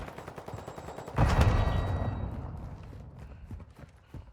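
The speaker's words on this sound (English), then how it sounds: "I'm taking fire." Gunfire in Call of Duty Modern Warfare II Warzone breaks out as a sudden loud burst of rapid shots that then fades into scattered, quieter cracks.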